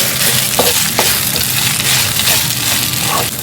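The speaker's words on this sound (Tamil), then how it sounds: "இப்போ இந்த உப்பு நல்லா கலங்குற அளவுக்கு நம்ம நல்லா வதக்கிக்கணும்" Lemon semiya being stirred and sautéed with salt in a pan, with a steady frying sizzle and repeated scraping stir strokes close by, continuous throughout with no talking.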